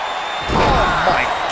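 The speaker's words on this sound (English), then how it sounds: "you don't see a slam like that very often" A wrestling slam in the video game WWE 2K19, Bayley versus Bianca Belair on RAW: a heavy thud halfway through with a broadband crash and a swell of crowd noise behind a steady arena hum.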